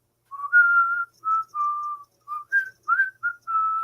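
A person whistles "The Ants Go Marching", a clear, close melody of sustained and short notes in phrases separated by brief pauses, with no talk.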